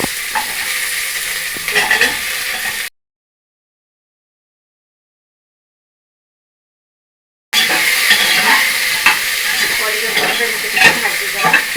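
Carrots and beans stir-fried in a pan for khichdi, giving a close, continuous sizzle with scraping stirs, cut by several seconds of complete silence in the middle before the frying resumes.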